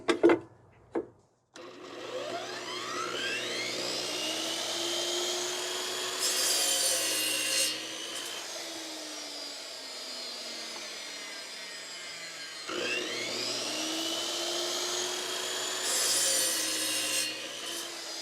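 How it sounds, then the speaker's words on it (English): A DeWalt chop saw powered by an ATB WL-1800 portable power station cuts a wooden board in two passes. Each time the blade spins up with a loud, close whine that bites into the wood, holds, then winds down. "Now let's move to the DeWalt chop saw."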